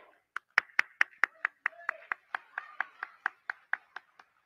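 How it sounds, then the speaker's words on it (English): About twenty sharp claps ring out in a slow, even rhythm for performers from Riza Dance Academy, each one crisp and distinct against a quiet background, with no talk over them. "A big round of applause for Kalakar from Riza Dance Academy"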